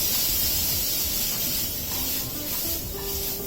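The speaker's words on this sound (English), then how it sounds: "we're going to put that right on the pan in the middle so it just cooks off a little bit" Ginger garlic paste cooks off in a hot pan among softening onions for a curry masala dosa filling, giving a loud, even hiss that carries steadily throughout, with no voices over it.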